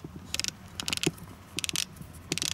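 Locked turret of a Razor 6 Gen 2 rifle scope turned by hand, giving crisp, distinct mechanical clicks in short bursts, close and fairly quiet, with no talking.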